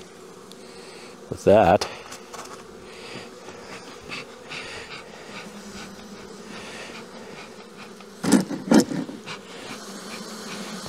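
Honey bees buzz in a low steady drone around a hive in cold spring weather, with short louder passes of single bees flying close by and someone speaking briefly.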